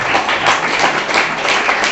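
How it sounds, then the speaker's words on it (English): Students applauding in a school biology quiz class, a dense close burst of many hands clapping at a steady level throughout with no pause. "You can clap."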